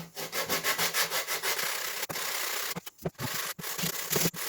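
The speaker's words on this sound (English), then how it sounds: "I sanded it a bit outside, but I have to sand it a little bit more" Steady back-and-forth sanding on a wooden DIY stand for an Akai Force synthesizer, with rhythmic strokes early that turn into a continuous rough rasp broken by a few brief pauses, loud and close with no voices.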